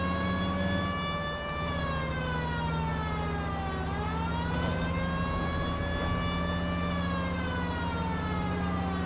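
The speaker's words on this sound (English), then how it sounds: "We might get there quicker if you used the siren." A police car siren in the L.A. Noire video game wails steadily and loudly, rising and falling in slow sweeps over a constant engine hum, with no talk.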